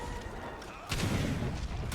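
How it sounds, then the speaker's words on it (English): A blast goes off in the video game Return to World: a sudden low, rumbling boom about midway that holds for roughly a second, louder than the muffled game noise before it. "That explosion that we just saw."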